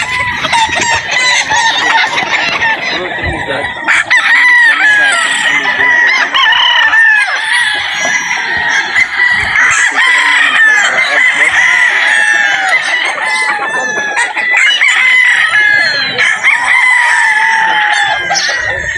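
Gamecock roosters at a game farm crow repeatedly, overlapping one another amid clucking fowl, loud and close, with a few voices faintly in the background.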